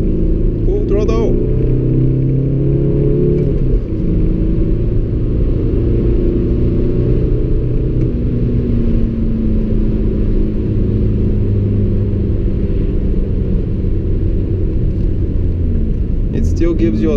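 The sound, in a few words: Audi A3 1.9 TDI diesel car accelerating at full throttle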